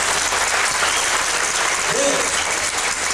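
A large audience at a Van folk song concert claps continuously, a thick, even wash of applause that holds its level from start to finish.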